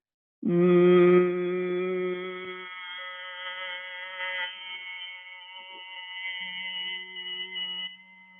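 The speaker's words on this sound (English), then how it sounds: "And you breathe out with a Bhramri sound like this." Bhramari pranayama humming exhalation in a yoga session: a steady, close, voiced hum with rich overtones, strongest in the first two seconds then sustained more softly for about eight seconds, alone without speech.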